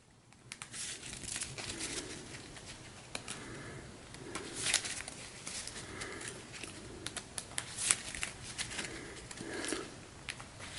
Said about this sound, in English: so I'll shuffle this up